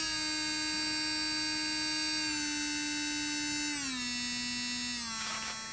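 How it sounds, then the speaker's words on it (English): A Kredioo handheld electric nail drill spins a coarse carbide bit, giving a steady high-pitched whine that drops in pitch in a few small steps as the speed is lowered, loud and close, with no talk. "So I have a coarse carbide bit on and I wanna see how it does at just cutting right through the nail."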